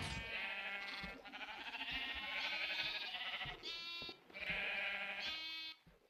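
Many Minecraft sheep packed into a mob compression system bleat in overlapping, nasal cries, several calls running together with brief gaps, fairly quiet overall.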